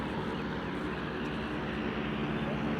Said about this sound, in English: Got float planes taking off.